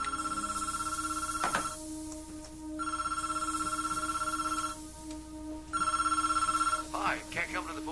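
A landline telephone rings in three long electronic bursts separated by short gaps before an answering machine picks up, with a steady background tone throughout.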